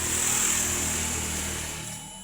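A portable CNC router with its spindle spinning at full RPM gives a steady high-pitched whine over a low mechanical hum as the machine travels, gradually easing slightly in level.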